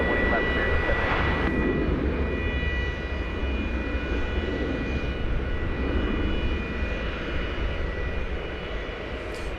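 A 31-year-old jet airliner bound for Louisville taxis at DFW Airport toward an east side departure, engines giving a continuous broad rumble with a steady high whine, heard alone at moderate distance.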